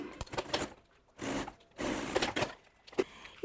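A sewing machine stitches crystal plastic sheeting onto synthetic fabric, its motor whirring in several bursts separated by short pauses, close and fairly quiet.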